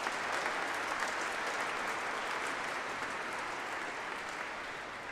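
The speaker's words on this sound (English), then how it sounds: "Please give them a round of applause." Steady, even applause from a congregation at a Mass for the Feast of Mary MacKillop, continuous clapping heard from a distance without a break.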